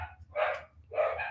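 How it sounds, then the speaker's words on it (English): Two quick dog barks, fairly close and moderately loud, with a brief pause between them and no talking. "Dogs are losing it."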